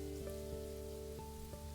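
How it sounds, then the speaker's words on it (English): Steady rainfall in the wolf game WolfQuest, a continuous even wash of falling rain over a low ambient hum with faint tonal game music. "rain is gonna stop"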